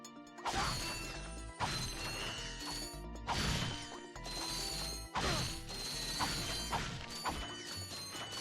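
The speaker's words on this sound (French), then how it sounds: "je récupère les boulons" Crates smashing and bolts being collected in the Ratchet & Clank video game: repeated loud crash-and-clatter bursts with rattling metallic pickups over dense game music, no voices.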